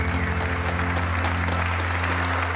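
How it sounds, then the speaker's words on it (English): Audience applause for a Formula 1 driver at a live stage event, a steady dense wash of clapping over a loud low hum, continuous throughout. "let's give a big round of applause to Daniel"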